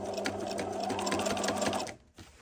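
A domestic sewing machine runs steadily, stitching a kitchen hand towel, with a dense, even motor hum and rapid needle chatter that stops abruptly near the end, leaving near silence.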